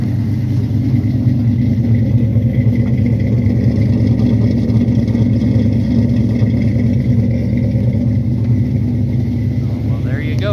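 A 1967 Barracuda engine that has sat for a year or more runs at a loud, steady idle close by, with a continuous rumbling drone and someone speaking over it.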